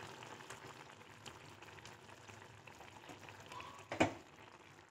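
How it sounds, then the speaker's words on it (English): A pot of Kerala avial with mixed vegetables boils steadily, producing a soft, even bubbling simmer heard close and quiet, with a brief louder clunk near the end. "The avial has come to a nice boil."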